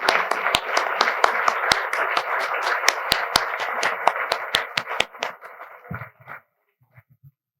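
Audience clapping in scattered, uneven bursts with sharp individual claps standing out, thinning and fading to near silence at the end.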